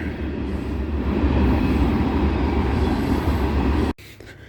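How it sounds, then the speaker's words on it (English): An elevated train rumbles past overhead, loud and steady with a low roar and rattling rails, then cuts off abruptly near the end. "I didn't realize how much higher that train is over my car."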